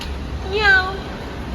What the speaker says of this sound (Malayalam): ഇതൊരു പൂച്ചക്കുഞ്ഞോ